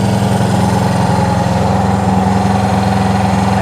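A Honda CB360 motorcycle engine idles steadily and loudly after its carburetors are synced, with an even, throbbing pulse close by and no voices.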